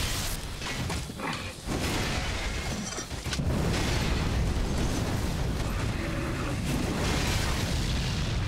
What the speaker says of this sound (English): The fucking fire explosions